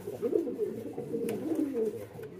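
A pigeon in a farm loft gives soft, repeated throaty coos close by, with no voices over them.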